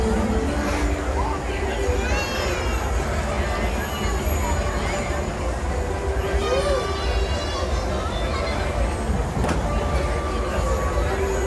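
Disneyland Railroad train ride heading toward Tomorrowland Station, with a steady loud rumble of the moving train and wheel noise throughout, brief squeaks and a sharp clack near the end, and faint crowd babble underneath.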